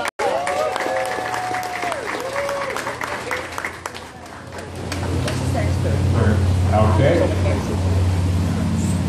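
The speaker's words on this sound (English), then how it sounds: "Round of applause for Kayla" Audience applause for a third-place contest winner at an awards ceremony. It starts mixed with speech and other sounds, then swells into broad, sustained clapping and crowd noise that grows louder toward the end.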